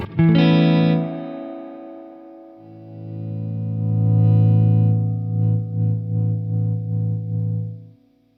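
A Hartwood Deytona II electric guitar on its neck pickup, run through distortion and effects: a loud struck chord rings out and fades, then a second sustained chord swells and pulses with a wavering tremolo before cutting off.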